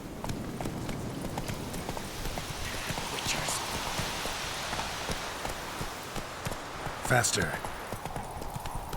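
Roach the horse's hooves clip-clop in a steady galloping rhythm in The Witcher 3 game, close and continuous over a patter of rain, with a man's brief spoken urging and a sharp clank near the end.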